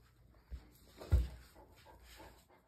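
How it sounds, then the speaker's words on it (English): A dog vocalizing outdoors at home, one low muffled bark-like burst near the middle amid faint whimpers and panting, soft and somewhat distant with light background noise. "We're barking at nothing."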